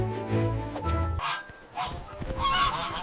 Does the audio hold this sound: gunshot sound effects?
no